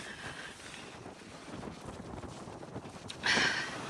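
Strong wind blowing in Japan outdoors near a bus stop, a steady low rush with microphone buffeting, faint throughout and rising into a brief louder gust near the end.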